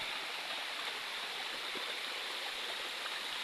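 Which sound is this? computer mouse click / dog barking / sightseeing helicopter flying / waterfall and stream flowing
waterfall and stream flowing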